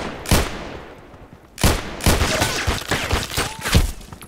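Colt Python Elite revolver shots ring out in the shooter game Contract Wars, several loud sharp reports spaced apart, each with a decaying echo and a flurry of quicker shots toward the end.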